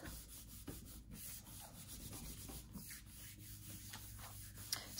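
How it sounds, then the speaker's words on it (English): Steady, continuous rubbing as a hand burnishes a laser print pressed onto a gelli plate for an image transfer. A close, dry scratchy friction runs for about five seconds with no speech. "Let's give that a rub."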